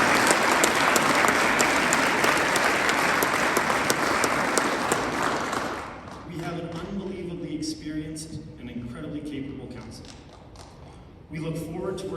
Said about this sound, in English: Let's give a round of applause to all of them.